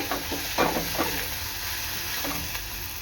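Sliced onion softening in a hot pan for a Maharashtrian gavar bhaji, giving a steady close sizzle with a few scraping stirs of a spoon early on, no voices.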